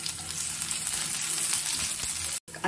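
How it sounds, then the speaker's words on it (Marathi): Chopped onion sizzling in hot oil with popped mustard seeds for a Marathi-style tempering, a steady close, loud frying hiss that runs unbroken with no voices, cutting out briefly near the end. "राई थोडी तळतळली की मी थोडासा फोडणीला घेतलेला कांदा टाकते"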